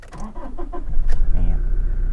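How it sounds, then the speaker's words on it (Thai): A 2015 Toyota Revo 2.4 pickup truck with manual gearbox cranks with a few quick starter turns, then the engine catches and settles into a loud, steady idle close by. "เดี๋ยวสตาร์ทให้ฟังเสียงเครื่องยนต์กันเลย"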